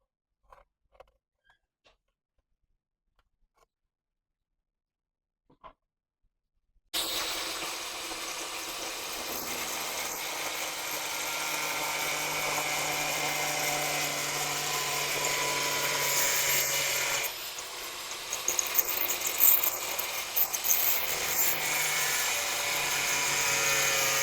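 A power tool cuts a PVC plate into a circle, starting after a few seconds of near silence with sudden, loud, steady high-pitched whining that continues throughout, with scraping bursts near the end.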